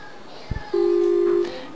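A phone line sounds one steady electronic tone as a call connects, held for under a second after a couple of soft knocks, over faint room noise.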